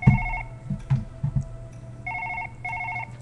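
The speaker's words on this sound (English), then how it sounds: "The phone is ringing." Telephone ringing in the video game Surgeon Simulator 2013, short electronic trilling bursts repeating in a clear rhythm, with thumps and handling noises in the first part.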